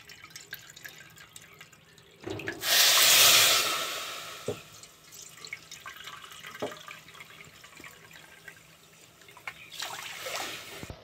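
Water is poured into a wok holding semolina and sugar in one loud, splashing rush lasting about a second and a half, followed by faint clinks and small handling sounds.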